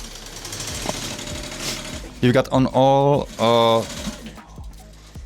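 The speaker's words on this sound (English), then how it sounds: "So here is our sewing machine workshop. It's kind of noisy here." Industrial sewing machines in a handmade goods workshop run in loud rapid stitching bursts, close by, as a person talks over them and between the runs.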